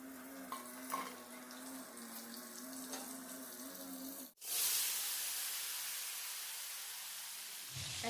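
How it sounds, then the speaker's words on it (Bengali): Potatoes go into hot oil after fried pointed gourd has been lifted out: a quiet humming kitchen gives way to a sudden burst of loud, dense sizzling that then continues steadily and close. "এবার পটলগুলো তুলে আলুগুলো ভাজতে দিয়ে দেব।"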